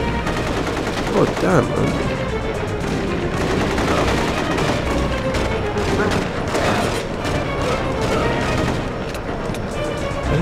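Rapid, dense gunfire in The Getaway rattles continuously, loud bursts layered in a sustained barrage, with a voice talking over it.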